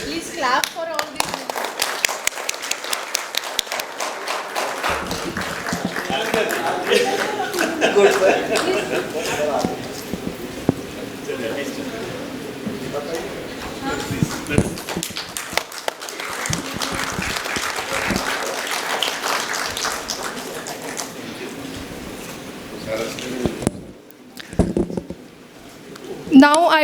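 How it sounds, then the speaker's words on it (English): Audience clapping at a regional workshop on building energy codes, steady applause lasting most of the stretch under a busy hall ambience, dipping briefly near the end before a final burst. "Please clap for all these."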